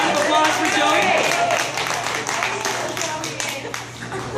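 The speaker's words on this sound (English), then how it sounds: "a round of applause for Joey" Audience applause at a wine-works gathering, honoring a presenter: dense steady clapping throughout, fading slightly toward the end, with some voices mixed in.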